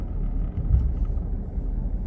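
A pickup truck rolls through a campground at Deer Run, Sangchris Lake State Park, Illinois, its engine a low, steady rumble up close that swells briefly as it turns, with no other sounds over it.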